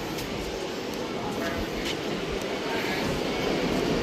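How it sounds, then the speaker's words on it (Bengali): Riding the monorail train at Disney's Magic Kingdom, a steady rolling rumble and whoosh throughout that builds slightly toward the end, with voices talking over it. "আমরা এখন মনোরল করে যাচ্ছি, আমাদের ট্রেন যাচ্ছে।"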